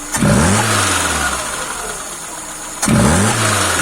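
A car engine fitted with a fully rebuilt Solex 21051 carburetor runs steadily at close range, with two sharp revving surges near the start and end separated by a smooth, even hum.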